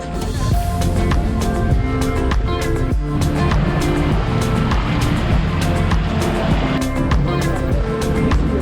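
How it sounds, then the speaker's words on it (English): Boat under way on the Douro River, with a loud, steady engine drone and water rushing along the hull, plus scattered knocks and clatter throughout. "Next stop is the Douro River boat trip"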